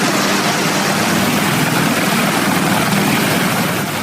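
A military helicopter from the US Navy raid on a Comoros-flagged tanker at sea gives a loud, steady rotor and engine roar that fills the clip alone, with no talk.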